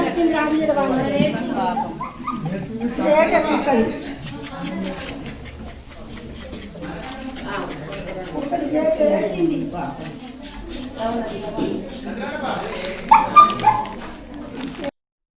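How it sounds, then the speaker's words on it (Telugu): A dog whimpers and yips intermittently amid people talking nearby at a funeral procession, with the voices and animal sounds overlapping throughout. "ఆ శునకం ఇప్పుడెలా వచ్చింది"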